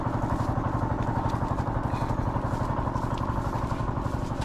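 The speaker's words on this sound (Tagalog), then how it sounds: "napaandar na natin yung makina" An irrigation water pump engine runs on a farm plot watering corn, a steady loud rapid chugging clatter close by, unbroken and alone with no voices.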